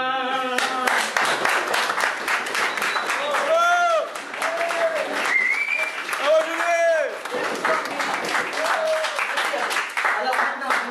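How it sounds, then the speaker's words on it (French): Audience applause at a live show, dense steady clapping filling the whole stretch, with a loud voice speaking over it through much of it. "je vous demande de faire un tonnerre d'applaudissements comme vous venez de le faire un instant"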